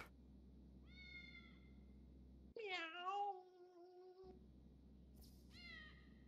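Cat meows in the video game GTA 5: several short, clear meows rise above a steady game hum, with a louder, drawn-out yowl near the middle and another meow near the end.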